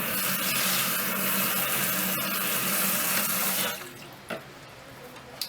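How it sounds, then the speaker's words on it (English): Water runs steadily from a tap while hair is wetted before shampooing, a loud even hiss that cuts off near the end, leaving a few faint drips and handling clicks. "you want to, of course, get your hair nice and wet, as you would typically to shampoo your hair"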